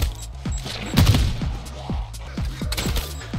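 A standard crossbow fires at large game in MW3 Zombies, with a quick series of sharp shots and impacts over constant loud game background noise.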